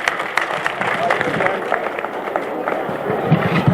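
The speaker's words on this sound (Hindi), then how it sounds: "जोरदार तालियां हमारे देश के तमाम उन शहीदों के नाम।" At a mushaira in Kalkidham Sambhal, an audience applauds in tribute to the nation's martyrs, a busy crowd clatter of clapping with some vocal noise mixed in, continuous and fairly loud throughout.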